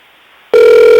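A telephone line's tone starts abruptly after a moment of quiet and holds as a loud, steady, close electronic hum.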